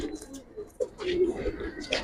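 Giribaz pigeon giving soft, low cooing close by, partly mixed with someone talking over it.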